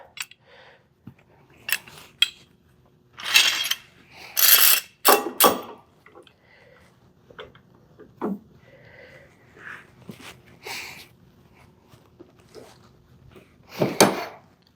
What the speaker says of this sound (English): So I am going to add my clamp on top.